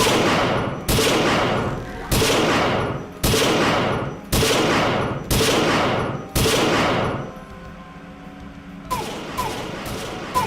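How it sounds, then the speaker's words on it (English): Enemy gunfire in a video game, coming in sharp, evenly spaced loud shots about once a second with ringing tails. A brief pause follows, then quieter, choppier firing. "He's still shooting at me from a distance"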